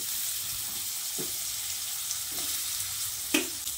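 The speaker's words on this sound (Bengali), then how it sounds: "বেগুন ভেজে তুলে নেওয়ার পর ওই তেলের মধ্যে আলুটা দিয়ে দিচ্ছি।" Potatoes dropped into hot oil left from frying eggplant sizzle steadily and close by, with a few soft scrapes and knocks of a utensil in the pan.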